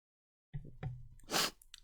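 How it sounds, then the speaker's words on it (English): A single close sneeze with a sharp breathy burst and brief wind-up, preceded by some faint rustling and breath in a quiet room. "I gotta sneeze."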